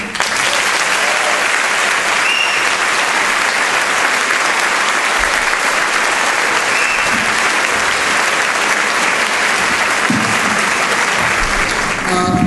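An auditorium audience at a school district convocation applauds to welcome speaker Geoffrey Canada, loud dense clapping sustained steadily throughout.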